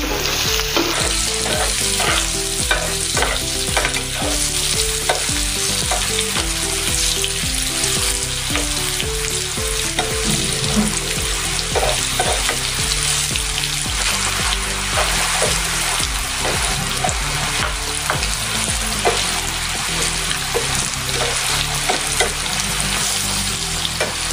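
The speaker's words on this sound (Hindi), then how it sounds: "हल्दी डालेंगे, थोड़ी सी नमक डालेंगे और अभी इसको हम अच्छे से तलेंगे।" Potatoes fry loudly in a pan with turmeric and salt for dum aloo, a continuous dense sizzle with occasional stirring scrapes throughout, no voices.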